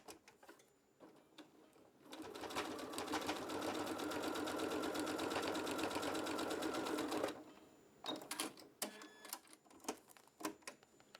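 A sewing machine stitches quilt blocks together in a continuous close, rapid mechanical whir lasting about five seconds, framed by quieter clicks and handling noises before and after.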